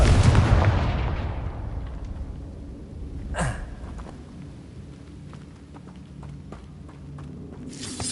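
Confringo fire spell in the video game Hogwarts Legacy, a loud booming blast that fades into a long rumbling tail, followed by a brief sharp whoosh and faint scattered crackles in a quiet background.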